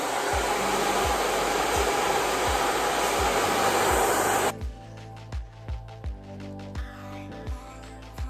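A handheld hair dryer blows hair dry with a loud, steady roar for several seconds, then cuts off, leaving scattered soft clicks and brushing taps.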